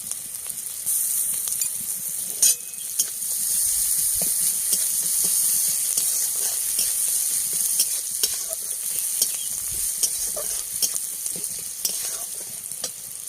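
Onions frying in a pan with salt and turmeric for chicken curry, a strong steady sizzle with frequent scraping stirs and clicks of a spoon, close and loud with no talking.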